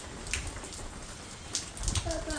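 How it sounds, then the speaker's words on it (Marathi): Light rain dripping outdoors, with scattered soft drops and faint background sounds at a quiet level. "एकदम असं थेंब थेंब थेंब थेंब पडतोय."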